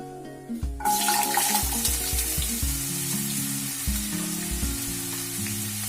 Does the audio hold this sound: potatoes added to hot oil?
yes